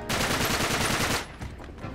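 Rapid gunfire from Uncharted 3 rattles loudly for about a second in dense repeated bursts, then drops to quieter scattered shots and clatter.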